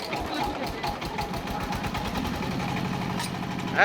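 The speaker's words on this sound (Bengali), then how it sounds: "এখানে মেশিন স্টার্ট দেয়া হয়েছে পাশাপাশি চাল দেয়া হচ্ছে" A rice chips making machine runs steadily as rice is fed in, giving a continuous rattling mechanical drone with a rapid pulsing rhythm, close and fairly loud, with a brief sharper burst at the very end.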